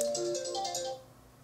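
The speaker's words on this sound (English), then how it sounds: "of course, you're going to hear your cell phone" A cell phone ringtone heard through a Sony SRS-NB10 neckband speaker plays a short, bright melodic phrase close by, then cuts off and fades after about a second.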